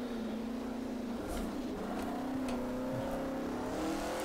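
Race car engine in the rFactor racing game, revving continuously with pitch dips and blips as the throttle matches revs on downshifts, loud and steady with no talk.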